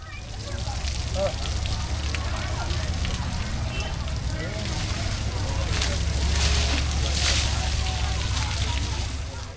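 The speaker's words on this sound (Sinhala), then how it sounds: "හොඬේට ගන්න අර වතුර කොටසෙන් එක කොටසක් දාගන්නවා උඩට පිටටයි ඔළුවට" An elephant bathing draws water from a barrel with its trunk and throws it over its back and head, making a steady, close rushing splash of water that runs continuously, with a voice faintly underneath.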